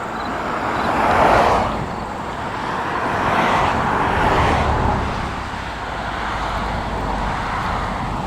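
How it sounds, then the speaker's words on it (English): A car passes on a road beside the old Norwich Hospital grounds in August, its hiss swelling and fading twice over a steady background of roadway noise, moderately loud and without talk. "if a car is going by me, it kind of blows out this verbal audio I'm dishing out here"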